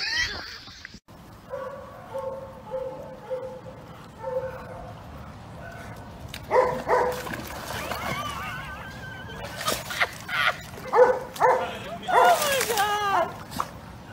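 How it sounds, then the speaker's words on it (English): A cane corso barks and yips in bursts, some close and loud, mixed with whimpers, while people talk over and between the barks. "Bark at your dog."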